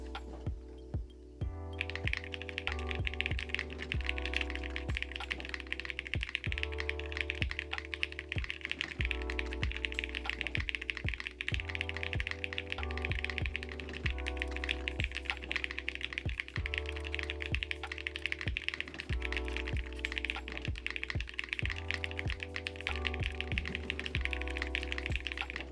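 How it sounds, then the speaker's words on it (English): Steady, fast typing on a new keyboard during a typing test, dense clicky keystrokes running continuously and close up with no talking. "Let's do this typing test."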